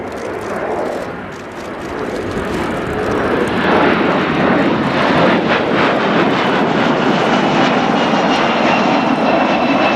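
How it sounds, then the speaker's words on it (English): Kawasaki P-1 maritime patrol jet with Japanese XF7 engines makes a fast flypast at about 250 knots, a loud broad roar that swells and holds steady. "a faster flypast coming up now, the P-1 coming in again from our right, this time up to 250 knots"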